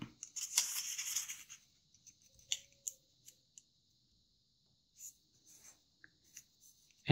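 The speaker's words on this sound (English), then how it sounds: "Mark the fold." Square of origami paper being folded and creased by hand for an Easter bunny face, starting with a crisp close rustle, then quiet scattered scrapes and soft taps with silence between them.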